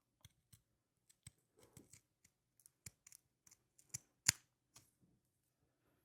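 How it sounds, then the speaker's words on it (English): Zigzag pinking shears snip around the edges of dark green fabric for a needlebook, giving a series of sparse, crisp, close cuts with quiet gaps between them. "now I am just going to cut around the edges of the dark green pickle slice"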